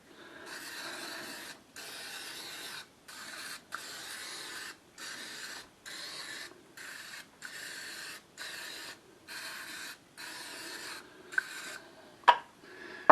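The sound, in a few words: spraying cooking spray on muffin pan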